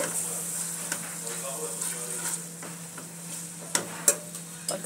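Bihon noodles and black pepper are mixed in a sizzling pan: a low steady fry under scattered light scrapes and taps of a utensil, growing sharper and louder toward the end.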